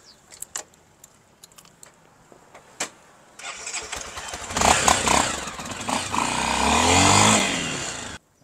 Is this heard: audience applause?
no